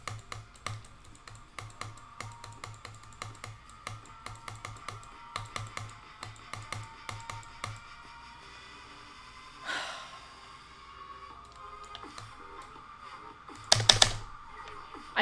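Rapid mouse clicking during a demon level, bursts of fast, regular clicks for the first eight seconds, then sparse noises, a gasp-like breath and a sharp loud burst near the end.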